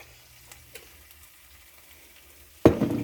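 Garlic in a pan stays quiet at first, then bursts into a loud, close sizzle with stirring scrapes during the last half-second.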